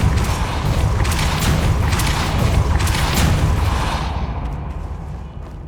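A Depulso force spell cast in the Hogwarts Legacy game lands as a loud, booming whoosh with mechanical rumbling and crackling bursts, sustained for several seconds before tailing off, with no talk.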